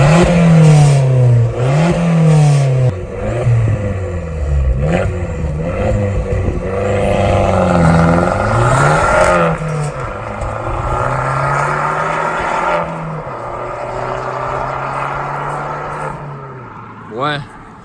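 An Abarth 4C fitted with a Monza exhaust revs repeatedly, its engine note climbing and falling in loud sweeping bursts, close up, with people talking over it before it settles to a lower drone.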